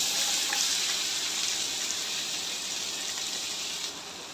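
Okra hits hot oil already seasoned with turmeric and chili powder and sizzles with a steady, close hiss. The hiss eases slightly near the end, and no one talks.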